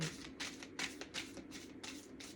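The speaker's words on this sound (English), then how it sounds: "These are hard to shuffle." A deck of cards shuffled by hand several times in quick riffling bursts, close and fairly quiet, with no talk.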